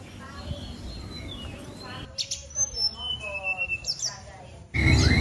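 A Javan mountain ledekan songbird at a bird market kiosk in West Jakarta, giving bright rapid chirps and warbling trills close by, with someone speaking and market chatter around it.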